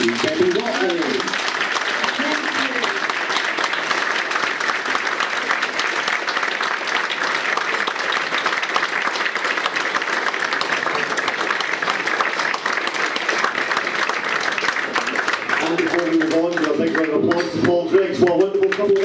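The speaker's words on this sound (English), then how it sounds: "give her a very big round of applause" A large audience applauds continuously for about fifteen seconds at a public interview event, steady and loud, before the clapping thins out and voices emerge near the end.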